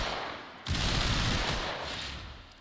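Mesa's Regulators pistols in the game Warframe firing at enemies: a sudden onset of loud, rapid, sustained gunfire that carries on steadily to the end.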